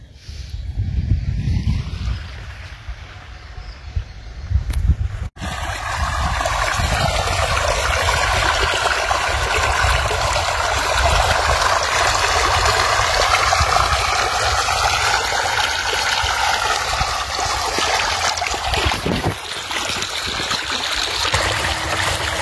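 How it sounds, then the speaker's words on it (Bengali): Irrigation water pours steadily into a farm field, a continuous broad rushing wash that holds for about seventeen seconds after a brief muffled opening, with some wind buffeting and no talk. "এই দেখো বন্ধুরা, ক্ষেতের মধ্যে জল দিচ্ছে।"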